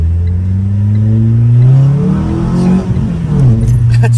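A Renault Twingo engine revs hard at full throttle, a loud close rising roar that climbs in pitch, dips briefly and then surges again, with no speech over it.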